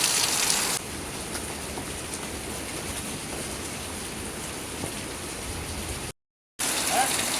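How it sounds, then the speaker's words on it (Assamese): Heavy rain pours in a steady, dense hiss, close by, with a brief gap of silence near the end. "এতিয়া বৰষুণৰ এই হেৰিবোৰ দেখুৱাই দিছোঁ"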